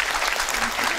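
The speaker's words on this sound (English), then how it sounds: "Applause! We are theatrical here too." Brief burst of crowd applause, dense clapping with faint voices mixed in.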